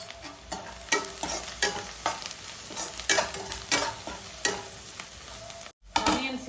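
Onions frying lightly in a pan for egg fried uggani, a soft sizzle with intermittent stirring scrapes at a steady pace, close and moderately loud, with a brief dropout near the end.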